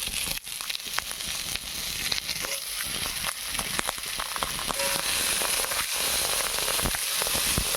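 Potato, tomato and eggplant frying in hot oil with green chili and onion, a steady loud sizzle with scattered crackles and pops running throughout.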